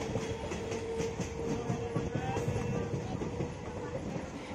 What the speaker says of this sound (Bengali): আমাদের ট্রেন এখন কুন্তিঘাট ছেড়ে যাচ্ছে ডুমুরদহ দিকে।